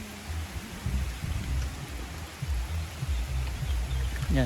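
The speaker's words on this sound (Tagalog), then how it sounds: "Umaambon." Light drizzle falling outdoors on a rainy day in Bicol, with a steady soft hiss of rain and a low rumbling underneath that continues without a break.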